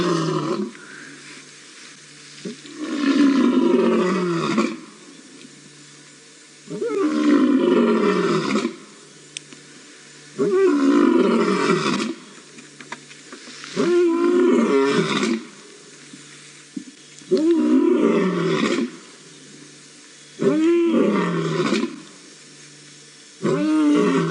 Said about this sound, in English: I think there's another lion calling down to the south.